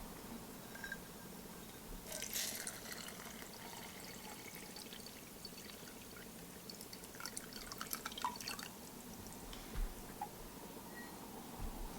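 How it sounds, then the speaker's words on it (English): Water poured into a jewelry tumbler barrel already loaded with steel shot and charm jewelry, a steady close pouring and trickling wash that lasts throughout, growing busier midway. "you'll fill it about halfway full with water."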